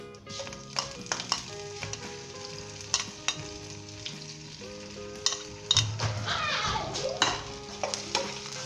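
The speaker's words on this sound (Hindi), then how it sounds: "सबसे पहले अदरक शामिल करेंगे और इसे 1 मिनट के लिए हम फ्राई करेंगे" Ginger sizzles steadily in hot vegetable oil throughout, a continuous frying crackle with scattered louder pops and stirring clatter, close and fairly loud, no talking.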